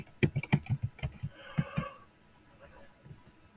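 Fingers type on a computer keyboard, close and clear, in a quick cluster of key clicks followed by a few scattered taps and a softer faint murmur.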